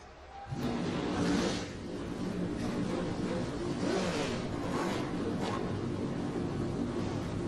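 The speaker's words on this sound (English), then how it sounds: "Let's get the engines fired right now." Race car engines at the start of the 2012 Lucas Oil Slick Mist 200 motorsport event fire up and rev, a loud, sustained, roaring engine noise that swells early and then holds steady.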